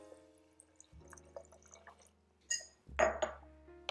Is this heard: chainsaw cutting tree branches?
no